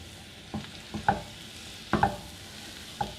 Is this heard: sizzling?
yes